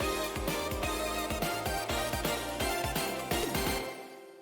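Closing bars of a video game's mall stage music from the soundtrack release: busy, punchy chiptune-style music with a steady driving beat that plays loud, then tails off into a fade at the very end instead of looping.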